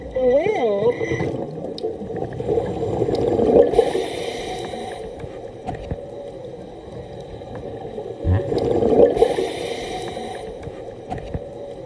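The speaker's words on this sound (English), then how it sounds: "Those noises you hear are whales." Whale calls recorded underwater during a scuba dive in Molokini Crater, Hawaii: wavering, moaning tones rise and fall in a couple of long swells over the bubbling rush of water, fairly clear and moderately loud.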